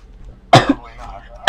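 A sharp, close cough with a brief rough follow-through, then a second cough starting at the end; loud and near.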